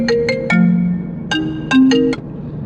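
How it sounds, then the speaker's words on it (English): A mobile phone ringtone from an incoming call plays as a loud electronic melody of short tonal notes in two bursts, with a brief pause between them, and no voices over it. "Can you stop calling my phone?"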